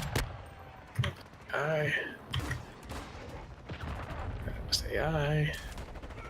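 Call of Duty mod gameplay carries bursts of gunfire, with sharp shots and rattling volleys from snipers and other players, heard under a player's voice and in-game voice lines.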